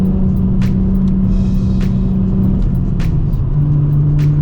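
A Nissan Z accelerates on the road to pass a Lexus. The engine holds a loud, steady drone with a shift in pitch partway through, heard from close by with no talk.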